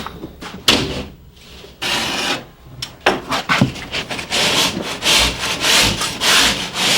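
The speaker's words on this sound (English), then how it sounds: "I smooth out the bumps and rough edges with my drywall rasp" A drywall rasp scrapes the rough edges of a cut drywall sheet in a series of loud, close, raspy strokes of uneven length, with short pauses between passes.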